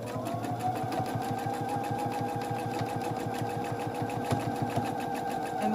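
A sewing machine stitches the darts of a fabric bubble basket, a fast, even mechanical chatter of needle strokes running steadily close up, with no talk.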